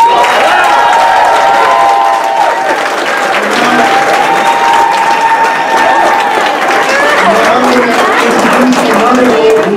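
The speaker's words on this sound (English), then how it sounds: "join me in a round of applause for a champion for all of us, Robert Rivas." Loud, sustained applause and cheering from a crowd at a primary election victory party, filling the room for the whole stretch with no pauses.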